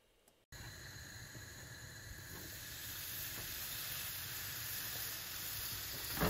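Thin slices of prosciutto frying in vegetable oil over low heat, giving a steady, even sizzling hiss that starts suddenly and continues unbroken, close and fairly quiet.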